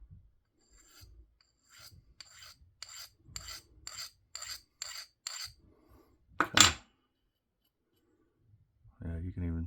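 A Hawkbill knife edge is rubbed in a series of about eight short, regular rasping strokes, quiet and close, followed by one louder scrape and a brief voice at the end.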